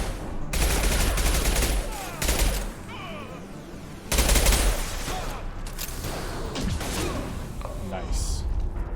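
In the video game Mass Effect 2, combat with a concussive shot fired amid gunfire against a Krogan: dense, loud bursts of shooting in two long waves, with a voice talking over the fight.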